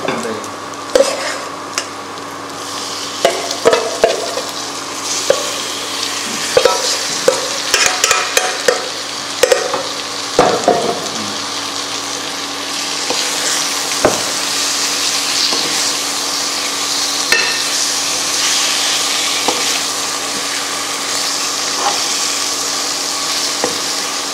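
Chicken curry frying in a pan, with steady sizzling broken by repeated scraping and stirring strokes, loud and close throughout with no talking.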